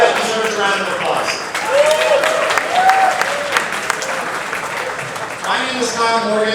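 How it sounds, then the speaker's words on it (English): Large audience of nearly 500 applauding at the NGPA Winter Warm-up evening program, a broad continuous wash of clapping with brief faint voices and tones mixed in, swelling midway and holding steady to the end. "that deserves a round of applause"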